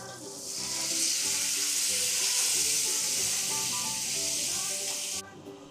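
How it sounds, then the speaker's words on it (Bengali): Onions fry in oil with a splash of water, producing a loud, hissing sizzle that swells quickly and holds steady before dropping away abruptly at the end. "এবার এই তেলের মধ্যে পেঁয়াজ ফ্রাই করে নিচ্ছি"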